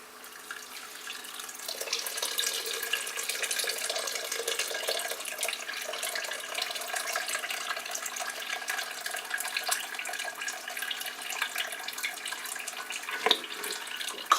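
Liquid streams and drips steadily from a lifted grain steeping bag during home brewing of an English bitter, a continuous close splashing trickle with a soft knock near the end.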